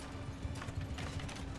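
Horses of mounted archers in Mount & Blade II: Bannerlord, a steady muffled clip-clop of many hooves under a low drone, faint and continuous, with no talk.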